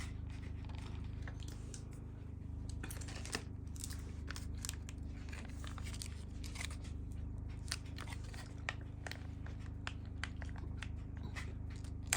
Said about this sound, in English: Trying to get the taco pack open.